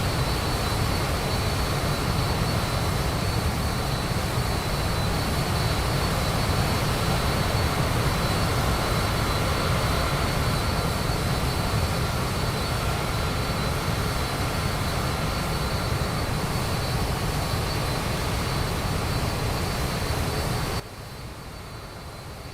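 A Cessna aircraft engine in flight at high altitude over the Everest region, a constant loud drone heard from inside the cabin that runs unbroken and then drops abruptly in level near the end.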